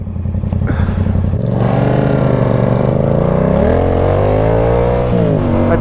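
Cars race across a street intersection with loud, close engines revving hard, pitch climbing and shifting through gears over several seconds, with a steady roar and some clatter underneath.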